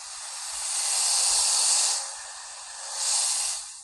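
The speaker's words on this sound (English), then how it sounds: "So the disc is spinning right now" A steady airy whirring hiss from a PS5 console's spinning disc and cooling air, close by, swelling louder twice and easing back between, with no voices.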